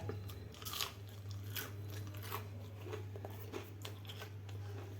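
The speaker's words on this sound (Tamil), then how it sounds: "முள்ளங்கியை வெறும் முள்ளங்கி இப்படி சாப்பிட முடியுமா?" Raw radish is chewed close to the microphone, giving a steady run of crisp, crunchy bites over several seconds against a low constant hum in a home kitchen.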